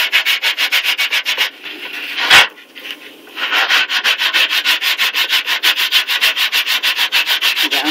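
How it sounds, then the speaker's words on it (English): A cookie sheet pan is scrubbed with baking soda in rapid, even back-and-forth strokes, close and loud, with a brief pause and a sharp knock partway before the rhythmic rubbing resumes. "keep on scrubbing this"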